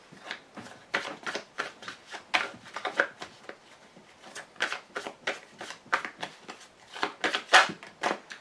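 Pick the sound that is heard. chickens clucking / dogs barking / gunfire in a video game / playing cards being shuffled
playing cards being shuffled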